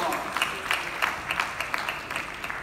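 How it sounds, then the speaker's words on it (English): An audience at the JCI Morning Show in Goa claps to welcome a yoga presenter, a moderate, fairly distant patter of hands with some individual claps standing out. "Big hand of applause, big round of applause."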